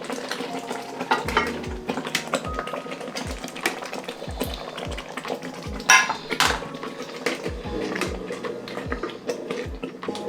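Garlic, onion and ginger frying in a pot for Ghanaian jollof give a steady crackling sizzle, with occasional clinks of a spoon or pot and a louder scrape near the middle.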